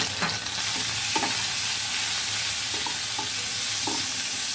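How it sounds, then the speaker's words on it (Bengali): Eggs coated in salt fry in hot oil in a wok before going into an egg korma. A constant crackling sizzle fills the clip, with occasional light taps of a spatula against the pan. "প্রথমে আমরা লবণ দিয়ে যে ডিমগুলো মাখিয়ে রেখেছিলাম সেই ডিমগুলি আগে ভেজে নিব।"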